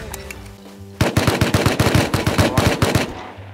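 Automatic gunfire in the survival game Rust, a loud, close, rapid burst of sharp shots that runs for about two seconds after a brief lead-in, with no talking.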